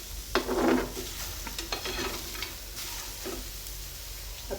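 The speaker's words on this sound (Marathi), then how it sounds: "आता अशा पद्धतीने सर्व वांगे छान भाजल्या जात आहेत" Eggplants roasting in a pan with oil for a kharda, a moderate sizzle with spatula scrapes and stirring clatter, close and fairly quiet.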